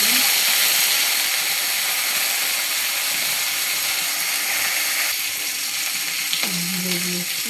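Green chillies and a little cumin frying in oil for a vegetarian dish, giving a loud, steady sizzle that runs throughout, with brief stirring scrapes and a short hum near the end.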